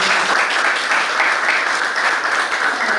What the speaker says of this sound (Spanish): Así que con un aplauso, ¿les parece?